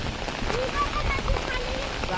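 First monsoon rain falling in the Konkan countryside, a steady close patter of drops on surfaces that carries on throughout, with faint voices murmuring underneath.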